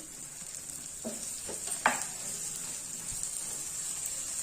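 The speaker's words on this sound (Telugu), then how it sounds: "పైన ఆయిల్ వేసేసుకొని ఫస్ట్ ఎర్రకారం రుద్దుకొని" A dosa sizzles steadily on a hot pan with oil and red chili powder, a constant frying hiss with a few soft scraping strokes as the powder is rubbed in, close and without talk.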